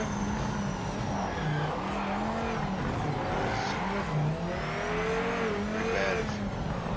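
GT class race cars, including Corvettes, in the racing video game Project Motor Racing roar continuously with rising and falling engine revs, gear changes and bursts of tire squeal, loud and dense throughout.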